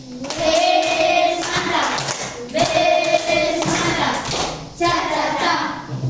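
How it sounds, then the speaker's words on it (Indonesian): Schoolchildren in a classroom give a patterned appreciation clap for a group, with rhythmic bursts of hand claps and taps in repeated phrases while their voices chant along loudly and close by. "Kita kasih tepuk apresiasi."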